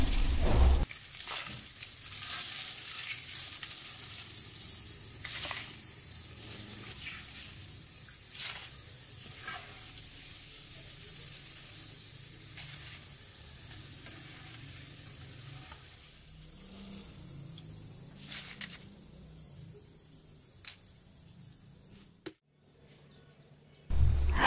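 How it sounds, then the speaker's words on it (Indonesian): Kaffir lime leaves sizzle steadily in hot oil as they fry until crisp, a dense close crackle that runs without a break and stops abruptly near the end, with no talking. "tambahkan 1 genggam daun jeruk, goreng hingga kering"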